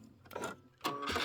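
Sewing machine stitching into the corner of a holiday quilt wall hanging, two short whirring bursts of running stitches separated by a brief pause, close and moderately loud.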